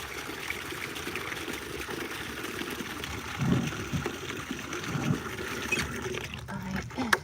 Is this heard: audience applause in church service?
no